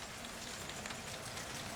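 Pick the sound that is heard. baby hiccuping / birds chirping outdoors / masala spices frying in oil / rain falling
rain falling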